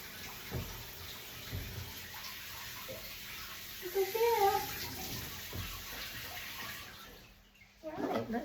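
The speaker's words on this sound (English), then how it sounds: "I've just got the shower running for the noise" A shower runs steadily in a bathroom while a puppy is bathed, giving a soft continuous hiss of water with a few brief knocks and splashes and a short quieter gap near the end.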